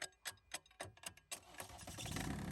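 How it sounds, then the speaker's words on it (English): JCB 8015 mini excavator engine cranking over after its starter motor is tapped with a metal rod: a few uneven bursts, then the engine catches and settles into a steady, close, loud running rumble. "and then the starter motor jumps into life and the engine starts"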